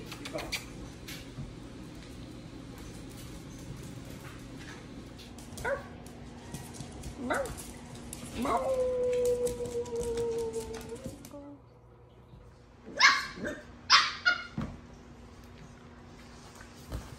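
A Jack Russell terrier puppy whimpers with a sustained high whine, then lets out a few sharp yips and barks near the end, close by, while a person talks softly in the background.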